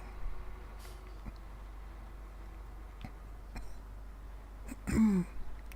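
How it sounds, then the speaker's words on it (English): A single short, rough cough bursts out close by over a steady low engine rumble, with a few faint clicks before it. "Sorry about coughing."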